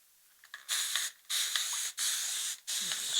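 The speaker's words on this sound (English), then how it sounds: "we're going to go ahead and moisten everything again with the spray bottle" Spray bottle misting water onto the paper of a 1940 Pep Comics #3 during restoration: four long hissing sprays of trigger bursts separated by brief pauses, close and fairly loud, with no talking.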